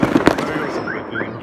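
Loud, close firework bangs as a mortar-like launcher fires, followed by rising whistling squeals trailing off, all within a brief outdoor burst.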